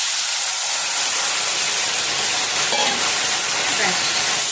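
Ingredients for shukto, a Bengali dish with bitter gourd and lentil dumplings, tipped into a hot pan: a loud, continuous broad sizzling hiss that fills the whole moment without a break.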